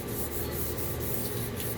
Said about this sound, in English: You're just kind of polishing the wood at this point.